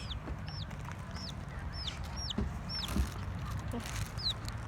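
A chicken clucks softly and repeatedly while being fed, short rising chirps spread over a quiet, rumbling background with faint scratching.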